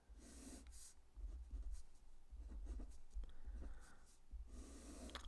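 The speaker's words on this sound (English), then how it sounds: "Let's just make a little sketch here." Pencil sketching a straight line on paper, soft scratchy strokes repeating in short passes, faint and close, with no talk.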